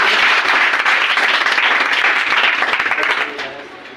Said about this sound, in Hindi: गोल्डी के लिए जोरदार ताली।